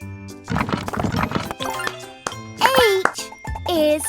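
Cartoon horse sound effect in a children's alphabet song, with hooves clip-clopping and a bright jingle followed by two rising neighs, close and clear, while a voice speaks over the start.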